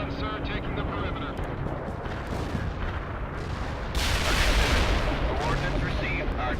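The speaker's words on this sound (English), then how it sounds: "Coordinates received. Artillery firing." Artillery firing in World in Conflict, a continuous heavy rumble of distant blasts that swells into a louder, denser barrage midway and holds steady to the end.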